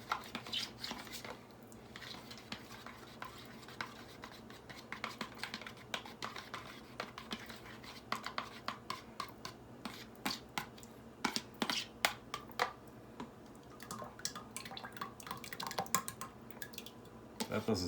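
Milk is spooned into Greek yogurt and stirred, giving faint, close, irregular wet clicks and squishes of a spoon against a bowl, with quiet room tone and no talk.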